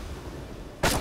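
A single ship's cannon booms near the end in the naval game Blackwake, a sharp loud blast following a quiet stretch.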